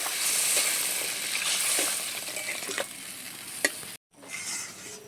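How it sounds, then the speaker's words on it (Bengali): Spice mixture with chili powder sizzling hard in a pan for a fish curry, a loud hiss with scraping stirs that cuts off abruptly, then returns as a softer bubbling hiss after water goes in. "এবারে আমি পরিমাণ মতো জল দিয়ে দিচ্ছি।"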